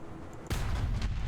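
A PLZ83-130 self-propelled howitzer's cannon fires once in War Thunder, a single sudden, heavy boom midway that rolls on with a rumbling tail.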